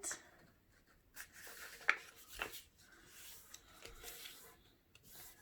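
Sheets of paper are folded for an origami crane, close and quiet. Sparse crisp creases and rubbing scrapes come in short bursts against near silence.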